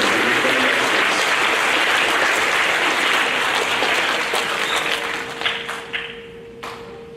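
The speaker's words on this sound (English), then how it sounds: "how about a round of applause for our science leaders?" Audience applause for sixth-grade science award students at a school awards program, a dense sustained clapping that fills most of the moment, then thins into scattered claps near the end.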